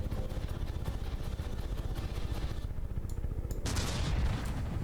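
Ship-mounted guns firing in the naval combat game From the Depths, a rapid rumbling run of shots with engine drone, swelling into a louder burst near the end.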